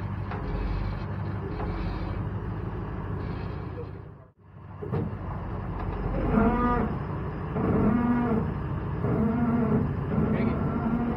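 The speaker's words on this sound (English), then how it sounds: "Those are just my brakes, you hear." Vehicle brakes on a truck maneuvering in an RV park give out repeated low, tonal groaning moans over a steady engine rumble, after a short break in the sound.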